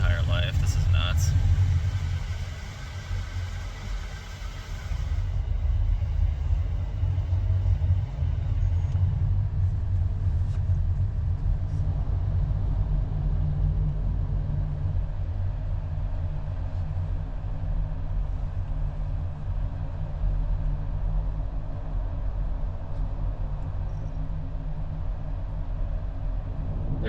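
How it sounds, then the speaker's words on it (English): Heavy rush hour highway traffic heard from inside a Ford Maverick pickup on a road trip, a steady, loud low road and engine rumble that persists throughout. "I have never seen this many cars driving on the same road in my entire life."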